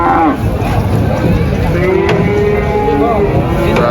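Limousin cattle, heavy jumbo cows among a herd, low mooing calls rising through a loud, busy pen with steady background noise and other animal sounds close by.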